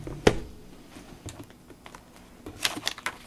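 Someone typing on a computer keyboard at close range, a quiet, irregular patter of key clicks with one sharper tap near the start.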